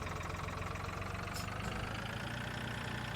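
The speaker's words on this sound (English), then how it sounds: "This little tractor's really doing a bang-up job for its size." Small tractor engine idling in the Farming Simulator 2013 game, a steady, loud, low chugging drone with an even pulsing rhythm throughout and no voices.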